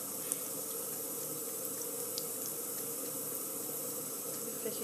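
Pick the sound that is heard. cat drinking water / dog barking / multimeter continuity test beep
cat drinking water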